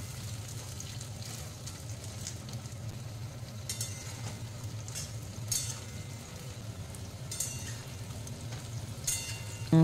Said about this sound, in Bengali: তার সাথে দিয়ে দেবো কেটে রাখা কুমড়ো। সবজিগুলি হালকাভাবে ভেজে নেব।